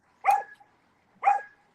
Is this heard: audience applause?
no